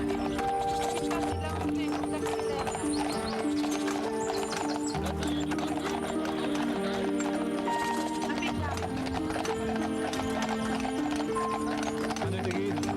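Working horses being driven in harness, hooves clip-clopping steadily over a continuous bed of music and background noise, with a man calling encouragement to the driver.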